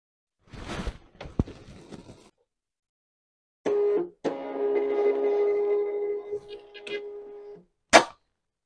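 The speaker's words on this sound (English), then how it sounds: "So let's click to make a testing page." A USB label printer printing a test page: a few clicks and handling noises, then a sustained mechanical whir with a steady tone for several seconds, ending in a sharp snap as the label feeds out.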